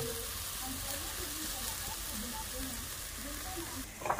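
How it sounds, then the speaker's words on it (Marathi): Something roasting in ghee in a pan gives a steady, close broadband sizzle and hiss throughout, with a faint low murmur underneath. "तर अशी आपण आता हे तुपात भाजून घेऊ"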